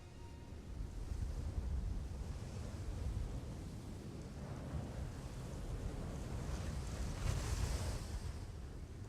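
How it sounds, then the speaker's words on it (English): Steady wind blowing over sand in Egypt's White Desert, a continuous broadband rush with low rumble and gusty swells, loud and unbroken throughout with no voices. "Few rocks can resist the continuous blast of the sand-carrying wind."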